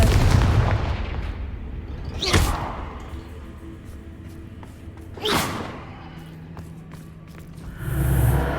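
Two separate Confringo blasting-spell explosions from Hogwarts Legacy, each a sharp, booming burst about three seconds apart, over a low ambient rumble, with a softer whooshing swell at the end.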